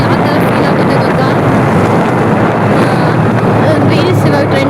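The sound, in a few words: riding a scooter, engine and wind noise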